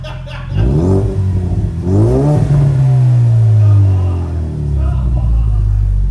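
A Ford EcoBoost SVO engine revs hard nearby, rising in a loud climbing sweep, dipping, then surging again into a sustained high drone for about six seconds.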